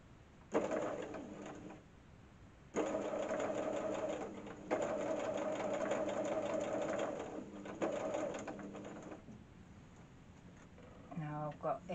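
A sewing machine stitches a Dresden quilt block in several bursts of fast, even whirring, broken by short pauses, close by and moderately loud, with a brief clatter of handling at the end.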